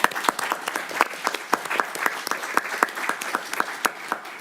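Audience applause for departing student trustees at a board of trustees meeting, a steady burst of many hands clapping close and fairly loud, sustained throughout without talk.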